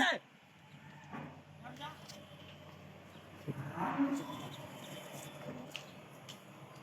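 A Holstein Friesian dairy cow moos once, low and drawn out, at moderate distance on a farm, with quiet background noise and faint voices around it.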